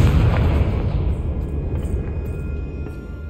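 A Confringo explosive spell in the Hogwarts Legacy video game erupts in a deep, heavy blast that rumbles on and slowly fades over a few seconds, loud with no voices.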